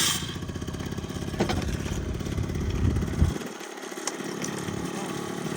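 A Yamaha Jog SA16 scooter from Japan runs at high revs, its small two-stroke engine buzzing loud and steady close by before the note drops away near the end.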